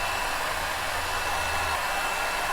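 A heat blower dries an anti-scale coating on a knife blade, giving a steady, loud hair-dryer-like whoosh of air noise throughout, with no voices.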